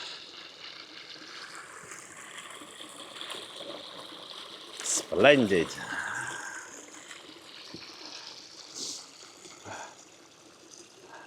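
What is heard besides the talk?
small waterfall on a chalk stream in Lincolnshire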